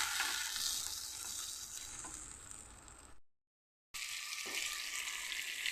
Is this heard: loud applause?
no